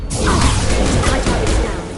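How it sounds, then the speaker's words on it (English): A flashbang grenade goes off in a space-themed video game, a loud, sustained broadband blast that rushes in abruptly and roars for about two seconds before easing slightly. "Watch out! Flashbang!"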